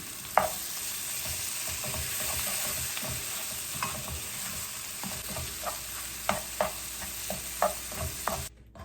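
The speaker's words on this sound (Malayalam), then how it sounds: "മീറ്റ് മസാല ഇട്ട് കൊടുക്കണം ഇതുപോലെ. എന്നിട്ട് ആ എണ്ണയിലിട്ടൊന്ന് പച്ചപ്പൊക്കെ മാറ്റിയെടുക്കണം" Meat masala powder frying in hot oil for a beef masala, with a steady sizzle and repeated sharp spatula scrapes and clicks against the pan throughout.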